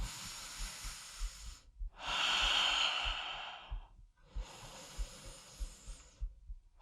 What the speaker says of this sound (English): Let's pause here for some nice rib expanding breaths.